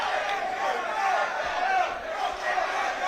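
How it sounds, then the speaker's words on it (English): Spectators at an amateur boxing final roar in a sustained, loud wall of cheering and shouting that swells and dips steadily without pause. "The crowd are absolutely loving this."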